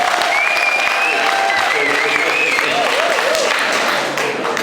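Steady, dense crowd applause at a community youth and women's group funding event, sustained loudly throughout with a few scattered voices mixed in.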